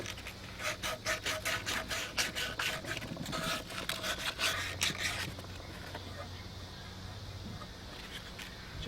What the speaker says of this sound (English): I'm just going to take some pieces of this sandpaper. Just going to clean them up, get the scale and rust out of there